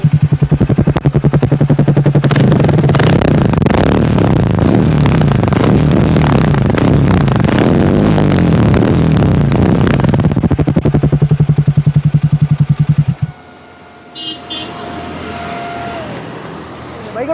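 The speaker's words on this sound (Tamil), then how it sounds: "த்ராட்டில் சவுண்ட் எப்படி இருக்குங்கிறத நம்ம கொஞ்சம் செக் பண்ணுவோமா?" A Triumph Speed T4 motorcycle sits close by with its throttle blipped, giving a loud, pulsing exhaust that holds for about thirteen seconds before cutting off abruptly, leaving quieter background sound.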